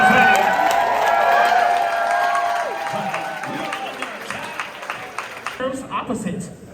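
Crowd applause and cheering at a Pride event, loud and dense at first, then thinning into scattered claps as voices carry over the noise.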